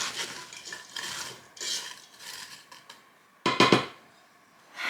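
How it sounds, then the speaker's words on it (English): Sugar being stirred into chopped rhubarb with a flat wooden utensil, a soft gritty scraping in repeated strokes that closes with a louder, sharper burst of scraping against the pot. "We're just going to stir that in."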